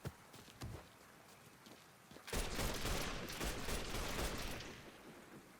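Gunfire in the video game Mafia 3, a few sharp isolated shots and footsteps at first, then a dense sustained burst of rapid fire that gradually tapers off.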